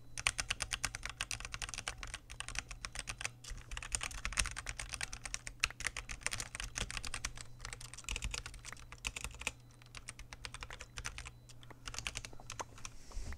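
Rapid, continuous clicking of keys on a computer keyboard, close and steady with a short lull partway through, over a faint low hum.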